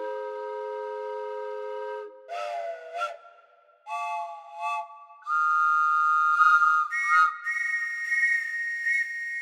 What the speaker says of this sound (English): A nice selection of percussive whistles.